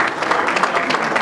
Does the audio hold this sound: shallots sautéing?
no